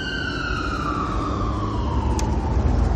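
A Seattle Fire Department medic ambulance siren wails loudly and close by in a steady, slowly falling tone, mixed with traffic rumble, as the vehicle passes on a city street.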